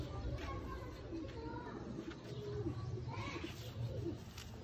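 Chaudhry-line male pigeon, a cross-breeder, cooing repeatedly at close range in soft rhythmic bursts over light background chatter.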